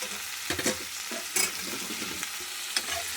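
Chopped banana flower is added to potatoes frying in spiced masala and oil, giving a quiet steady sizzle broken by a few clattering stirs of a spatula in the pan, nearby and without talk.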